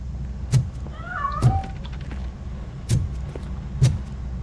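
A cat meows once, clear and close, in RoboCop Rogue City, set among a series of soft thumps and knocks in a quiet game scene.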